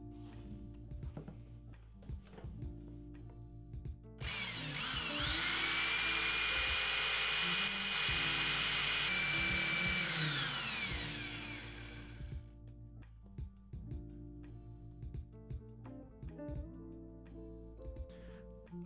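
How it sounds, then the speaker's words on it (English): A drill bores into the center of a plastic camera body cap with one loud, high, whirring burst lasting several seconds, between quieter handling clicks. "We're going to drill a hole right into the center."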